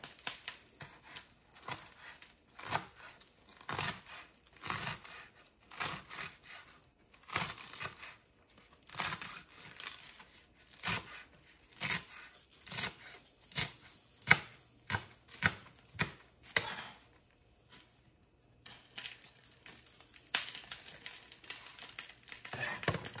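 A knife cuts through sweet potato stems and leaves in a steady run of crisp, close chopping snips with brief pauses, fairly quiet overall.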